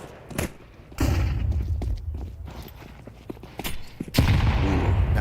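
Frag grenade explosion in a Counter-Strike match at a PGL Cluj-Napoca tournament: a sudden loud broadband blast near the end, preceded by an earlier thud and scattered footsteps and small impacts, with loud rumbling noise following.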